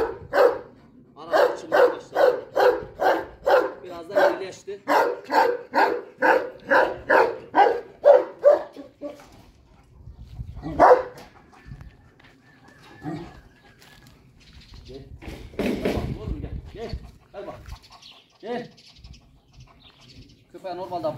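A dog barks in a long, steady run of about fifteen loud, close barks. After that come scattered bird coos and Turkish speech.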